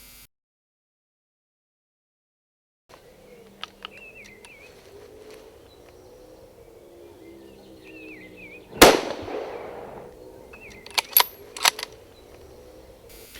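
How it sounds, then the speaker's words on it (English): A single sharp rifle shot rings out during a deer stalk in open country, loud and sudden against quiet birdsong, followed by a fading rumble and a few faint clicks. "The shot is good, and I make ready for an insurance shot just to be sure"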